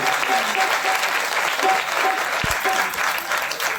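Audience claps together at a Hindu temple's Kartik festival, a continuous, evenly loud patter of many hands with no voices over it.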